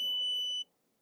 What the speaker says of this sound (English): Beyond 5, it will buzz.